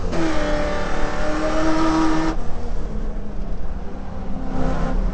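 Holden Commodore VK V8 race car at Bathurst in 2012 roars at high revs on track, then the engine note drops sharply partway through as the driver lifts off, leaving a lower, rougher engine sound, loud and close from onboard.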